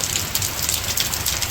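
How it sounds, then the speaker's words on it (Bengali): Medium rain falling steadily in a village, a dense, even hiss of drops with no pauses and no voices. "আমাদের এই দিকটা আর কি বৃষ্টি নামতেছে"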